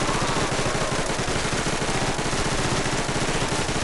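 Mark 14 rifle firing in a Christmas-themed custom zombies video game, a dense rapid stream of loud shots with no pauses, no talking.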